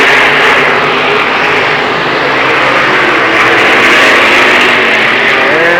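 Late model stock cars racing at Lernerville Speedway, led by Dick Barton's Ford Thunderbird, make a loud, steady engine roar that fills the whole stretch with no break and no voices.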